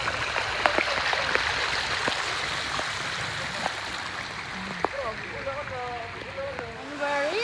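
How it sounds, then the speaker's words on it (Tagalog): Rain falls steadily outdoors with a constant wash of hissing and pattering, while people talk intermittently over it. "The rain continues."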